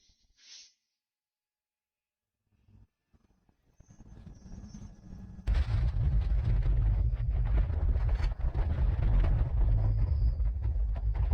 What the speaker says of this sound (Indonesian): Gunung ini benar-benar meledak.